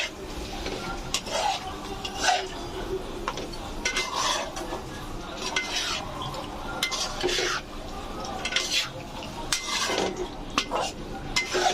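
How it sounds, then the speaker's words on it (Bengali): Mutton pieces stirred and mixed in a pot for restaurant-style mutton curry, a spoon scraping and clinking against the metal with a faint sizzle underneath, steady and close throughout. "মাংসগুলো দেওয়ার পর খুব ভালোভাবে মিক্স করে দেব।"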